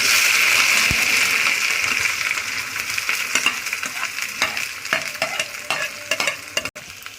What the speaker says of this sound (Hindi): और प्याज को तब तक भूनेंगे तब तक वो ब्राउन ना हो जाए